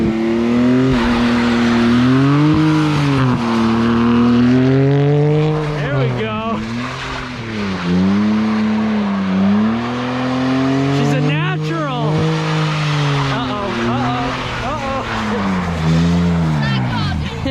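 A drift car's engine revs hard and holds high, loud and close, its pitch sweeping up and down repeatedly, with tire squeal and people talking over the roar.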